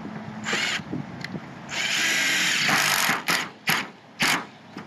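A power drill with a quarter-inch bit bores into a sloped, rotted metal roof, whirring in several bursts: one long steady grind, then shorter stop-start pulses with brief pauses between.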